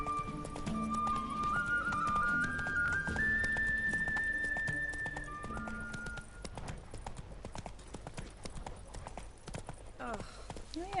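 Horse hooves clip-clop in a steady galloping rhythm in The Witcher 3: Wild Hunt, Blood and Wine, fairly close and continuous, with a rising whistled melody over the first half and some game sounds alongside.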